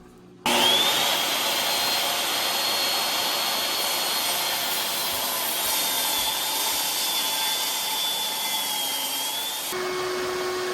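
A purple hardwood block, 3 by 3 by 12 inches, is split lengthwise in half for a wooden dagger, giving a steady, close, continuous grinding cut with a gradually wavering whine that runs unbroken for about nine seconds, then drops off abruptly.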